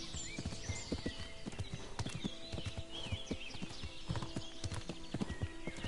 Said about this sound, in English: he is still just Pebbles the horse